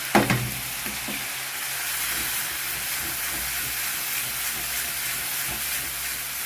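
Grilled ingredients and sauce hit a hot pan for stir-frying, opening with a sharp burst of sizzle that settles into a steady, loud, close hiss of frying with faint scraping stirs.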